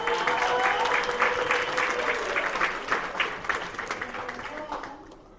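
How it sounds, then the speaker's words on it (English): Applause from a poetry slam audience, a dense wash of hand claps that starts full, then gradually thins and fades over several seconds. A few voices cheer through it. "let's give a round of applause to Wild Perfection"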